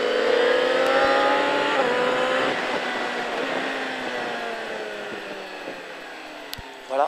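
Motorcycle engine revving hard on the Pau Arnos circuit, a loud continuous drone with rising and falling pitch as it accelerates, dropping slightly toward the end before a brief sharp click.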